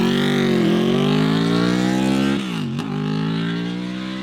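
A Honda VFR800 V4 motorcycle fitted with a cheap aftermarket turbo, ridden with a dashboard warning light on, its engine droning loud and close with steady harmonics, a brief throttle dip and a sharp whistle before pulling again.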